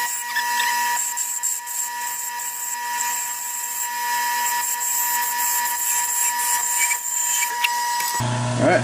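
Wood lathe parting off a turned Nebula bottle stopper, a steady high-pitched whine with tonal hum held close and loud for about eight seconds before cutting off abruptly.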